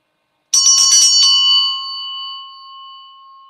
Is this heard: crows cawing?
no